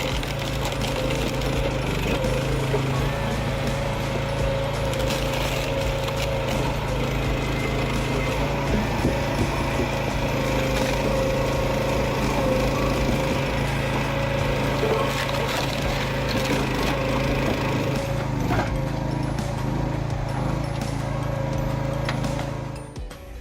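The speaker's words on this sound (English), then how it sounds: "TS400 wood processor is the ideal machine for firewood processing at all stages" An IMAF Group TS400 firewood processor runs continuously, its engine and hydraulics droning loudly while logs are cut and split with repeated knocks and cracks, dense mechanical noise throughout with no voices.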